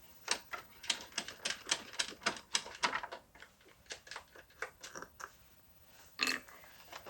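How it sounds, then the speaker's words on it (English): Thumb screws coming out of a BMW K1600 motorcycle's rear seat, a close series of sharp ratcheting clicks and clacks in quick rhythmic bursts, with one louder knock near the end. "To remove the rear seat, we're going to remove these thumb screws."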